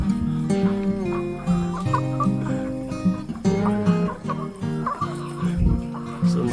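Backyard Dekalb white layer chickens cluck and murmur in a busy, continuous chorus nearby, with overlapping calls and occasional louder squawks.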